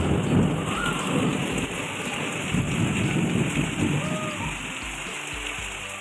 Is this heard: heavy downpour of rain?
yes